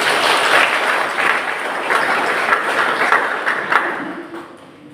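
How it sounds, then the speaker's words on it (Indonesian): An audience at a primary school performance applauds in a church service, a dense burst of clapping that stays loud and then thins and fades toward the end. "kita berikan tepuk tangan sekali lagi"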